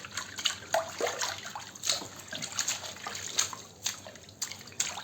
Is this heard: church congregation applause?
no